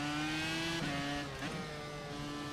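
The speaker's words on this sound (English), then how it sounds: "screaming engine" A race car engine in the iRacing sim at Suzuka holds a loud, steady high-revving drone with dense harmonics, dipping briefly partway through before settling back, with no voices.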